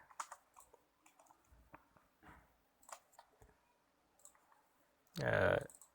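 Scattered light clicks of typing on a computer keyboard while entering text in AutoCAD, irregular and close, ending in a brief louder burst of noise; a voice talks faintly in the background.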